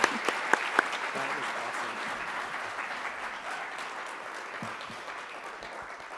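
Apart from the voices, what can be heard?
audience applause for Bobby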